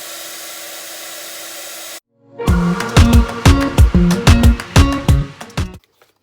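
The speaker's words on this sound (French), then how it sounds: "Donc je chauffe avec mon heat gun." A heat gun blows hot air to emboss a heart design, a steady rushing hiss with a low hum for about two seconds before it cuts off. A run of sharp, ringing knocks follows.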